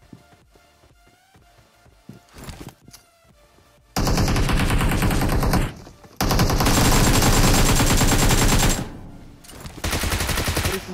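An AKM assault rifle fires long, loud automatic bursts in a battle royale video game, two sustained strings of rapid shots following quieter game sounds, with a brief pause between them.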